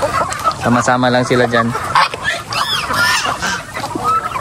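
Native chickens call close by on a farm with goats, a few honking clucks in quick succession, mixed with other bird sounds while a person talks briefly.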